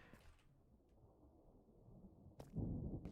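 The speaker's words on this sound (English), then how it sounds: "I hear a thunderstorm." A low rumble of video game thunder rolls quietly, then a sharp crack hits near the end, followed by a louder, heavier rumble; from a late-night tornado survival game.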